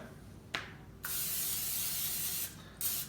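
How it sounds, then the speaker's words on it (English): Pam cooking spray hisses onto a pan for eggs in three bursts: a short spritz, then a longer steady spray, then another brief one, loud and close. "I like to grease up my pan."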